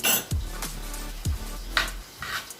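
A spoon stirring carrot tarator ingredients in a bowl, several sharp clinks and scrapes against the dish at an uneven rhythm, close by and without talk.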